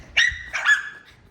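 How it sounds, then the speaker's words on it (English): A dog gives two close, sharp barks in quick succession indoors, the second trailing into a short whine. "What are you barking at?"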